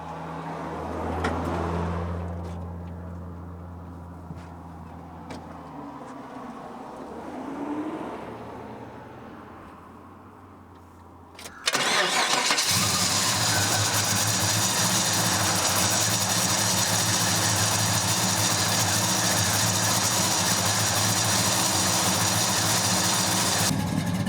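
A 1971 Chevrolet Chevelle V8 cold-starts with a sudden loud crank and catch about halfway through, then settles into a steady, throaty, full idle that carries on alone to the end after quiet background noise.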